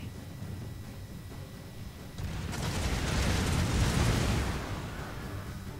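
In Total War: Shogun 2 – Fall of the Samurai, naval bombs burst into a deep, rolling explosion that swells from a low rumble into a sustained roar and then slowly fades, heavy and fairly distant, with no talking.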